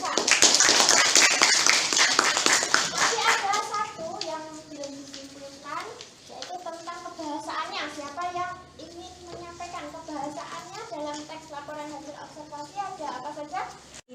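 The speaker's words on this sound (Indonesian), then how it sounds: "Tepuk tangan untuk Mbak Nisa." A classroom of students claps for a classmate in a burst of dense, close applause lasting a few seconds, then it fades as a teacher's voice takes over and keeps talking.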